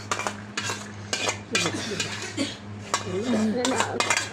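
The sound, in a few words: meat being added to a pot and stirred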